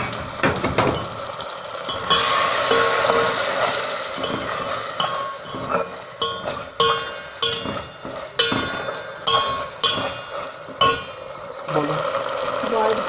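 Homemade chicken stock (yakhni) poured into a hot pan for chicken vegetable spaghetti, hissing and sizzling as it hits with bubbling liquid and scattered clinks, while a voice talks over it.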